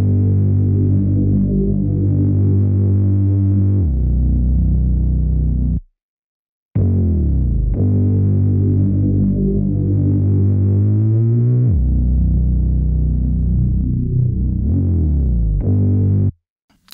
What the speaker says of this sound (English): To give the bass even more energy, I added some Camel Crusher and made an automation clip where the distortion increases over the first 8 bars